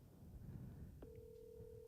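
A telephone line tone sounds during a podcast call, a steady single-pitched electronic tone starting midway and holding, faint under low background murmur.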